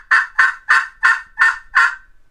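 A turkey hunter imitates a turkey's yelp with six sharp, loud, close calls in an even rhythm, each short and nasal, with near silence between them.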